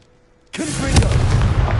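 A Confringo blasting spell explodes in Hogwarts Legacy: a sudden loud burst after a quiet moment, followed by a dense, rumbling roar of debris and fire that keeps going.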